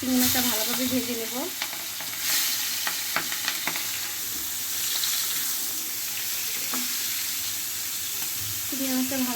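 Prawns sizzle and fry in oil in a kadai, a steady close hiss of frying with occasional stirring clinks, and a voice speaking briefly at the start and end.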